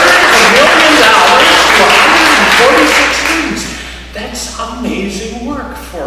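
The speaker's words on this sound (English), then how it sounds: "You mean you aren't going to applaud at that?" Audience applause at an awards ceremony, a loud burst of clapping from a crowd that fades out, followed by a speaker's voice.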